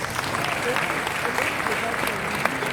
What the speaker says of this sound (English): round of applause for all of them, please.